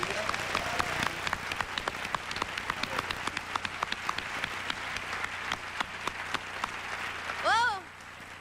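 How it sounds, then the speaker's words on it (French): Audience applause at the 2001 Les Olivier gala, a steady dense crackle of clapping running throughout, with a voice speaking over it near the end. "On va le faire applaudir encore en arrière."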